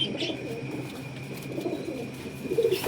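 Rooftop flying pigeons give low, throaty cooing in steady rounds, close by, with a soft background hum and a slightly louder burst of coos near the end.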